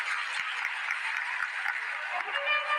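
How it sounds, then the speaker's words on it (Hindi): A large audience claps loudly and steadily at a live Shiv Mahapuran katha gathering in Sirsa, a dense, continuous wash of applause lasting throughout with no voices standing out. "जोरदार ताली बजाएं"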